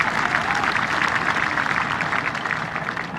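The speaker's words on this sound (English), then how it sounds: "Another round of applause." Sustained crowd applause at a 2023 high school graduation ceremony, dense steady clapping filling the hall at an even level from start to finish.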